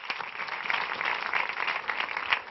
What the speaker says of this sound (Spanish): Fuerte aplauso para Tony Cruz.